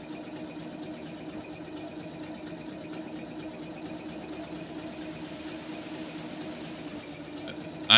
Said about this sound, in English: Sound like a sewing machine? Yeah, that's the steam engine for you.